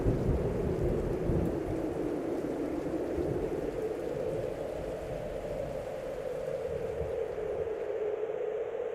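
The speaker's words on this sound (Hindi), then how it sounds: "तूफान उठ खड़ा हुआ है" Thunderstorm with a steady roar of heavy rain and rolling thunder, a dense continuous wash that stays loud throughout and thins slightly near the end, used as a horror story sound effect.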